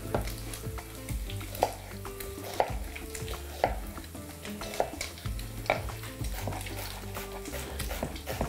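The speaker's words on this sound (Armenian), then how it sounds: "2 գլուխ սոխ մանր կտրատում ենք եւ տապակում ենք։" Two finely chopped onions fry in a pan with a steady sizzle, while a utensil scrapes and clinks against the pan in a regular rhythm about once a second.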